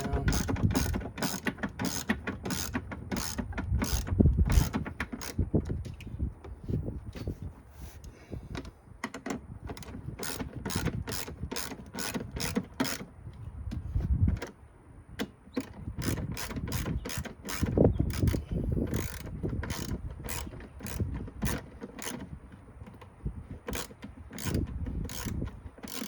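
Rapid, repeated ratchet clicks from tightening 8mm bolts on a ram air intake, coming in steady bursts of quick pawl ticks with short pauses between strokes, close and fairly loud with no talking.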